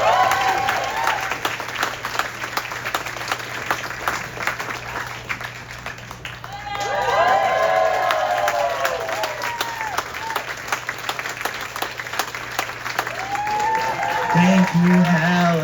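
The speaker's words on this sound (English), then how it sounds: "you can give us a round of applause if you agree" A comedy show crowd applauds loudly and continuously in a club venue, dense clapping with brief cheers while a performer talks over it.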